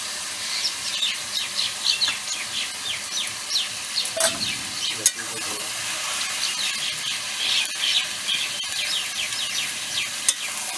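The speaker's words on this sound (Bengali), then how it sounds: "কষিয়ে নিলাম তেলে, আদা বাটাটা দিয়ে দিচ্ছি।" Ginger paste fries in oil in a pan, a steady sizzle with scraping stir strokes and a few knocks as the paste is worked around.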